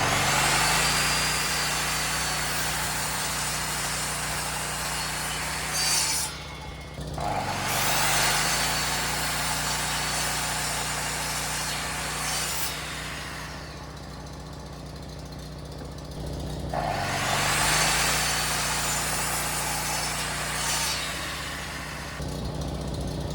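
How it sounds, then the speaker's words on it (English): A generator runs on a house construction site with a steady, mid-pitched engine drone that briefly dips twice before picking back up, heard alone without voices. "Let me get the generator started, and we'll get this job done."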